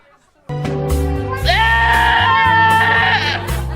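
A goat lets out a loud, drawn-out, wavering bleat that rises into a strained cry, over a constant low tonal background.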